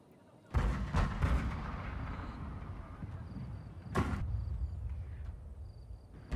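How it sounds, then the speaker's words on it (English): Heavy booming wooden cannon blasts in the video game Shogun 2: Fall of the Samurai, one sharp report near the start and another a few seconds later, each trailing into a rumbling, noisy battle din. "Wooden cannons are getting a few kills."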